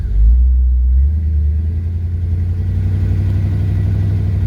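A 1957 Ford Fairlane 500 convertible rumbling while driving, a deep steady low engine burble close up with a slight throttle swell at the start before settling into an even cruise.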